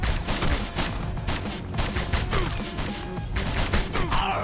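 Enemy gunfire in Bionic Commando Rearmed, a dense stream of rapid game shots and impacts mixed with constant music and effects, loud and continuous throughout.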